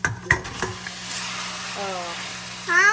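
Onions frying in a pan for Pakistani aloo qeema: a steady soft sizzle runs throughout, broken by a few sharp knocks and scrapes of stirring near the start and a brief clatter at the end.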